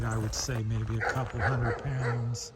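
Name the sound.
dog barking in the background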